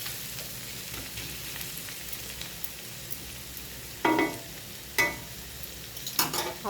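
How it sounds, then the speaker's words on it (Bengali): Food frying in a pan is stirred and spread out, a soft steady sizzle with a few louder scraping stirs near the end, heard alone without talk. "এটাকে নেড়ে দিতে হবে। নেড়ে দিয়ে আবার ছড়িয়ে দিয়ে"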